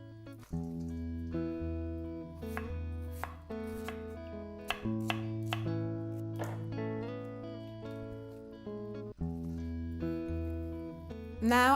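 A kitchen knife finely slicing cabbage on a board: rapid, even, close chopping strokes in a steady rhythm, a few brief pauses between runs, over soft background music.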